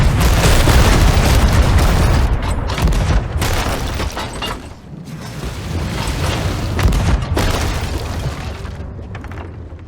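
Ship cannons firing in the pirate game Sea of Thieves, a string of loud, heavy booms in quick succession that blur into a rolling barrage, briefly easing before more blasts follow.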